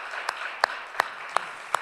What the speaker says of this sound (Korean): 우리 그 주님 앞에 우리 감사의 박수 올려드리도록 하겠습니다.